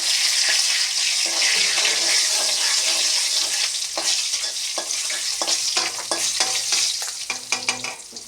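Dried red chillies fry in hot oil with a bright, steady sizzle, joined by frequent clattering stirs and spoon scrapes that grow busier toward the end.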